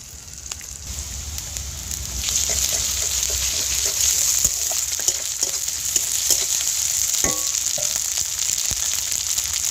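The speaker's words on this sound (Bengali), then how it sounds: "একটু ভালো করে ভেজে নেব।" Food fries in a hot pan on a stove, a continuous bright sizzle with occasional sharper crackles and soft stirring taps, steady and close throughout.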